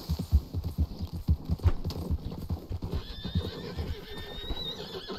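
Horse hooves clip-clop steadily at close range in Red Dead Redemption 2, joined partway through by high, drawn-out neighs and whinnies over the continuing gallop.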